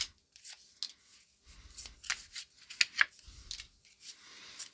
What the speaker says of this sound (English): So let's pull a couple tarot cards and see what else we can get about this.